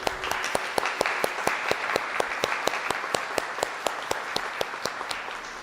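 A theater audience applauds, a close, loud patter of many hands with one pair of distinct sharp, rhythmic claps standing out above the crowd, steady for several seconds without speech.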